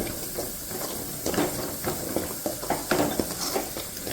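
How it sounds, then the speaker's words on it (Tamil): Chilli powder stirred in a frying pan for a keema and greens gravy, giving a steady soft scraping and sizzling texture with repeated stirring strokes, fairly close. "மிளகாத்தூள் போட்டு இப்படி ஒரு ரெண்டு கிண்டி கிண்டி விட்டுட்டு"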